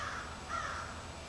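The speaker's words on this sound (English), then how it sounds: "there is a crow that makes that noise, and it's really annoying" A crow caws outdoors over steady background noise, one faint call drawn out across the short stretch, with nobody talking.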